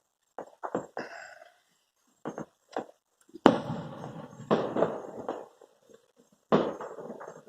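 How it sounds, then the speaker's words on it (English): Fourth of July fireworks going off after rain, a string of sharp pops and crackles followed by heavier booming bursts with long rumbling tails, some at a distance and some closer and loud. "It rained, and now they're doing their fireworks,"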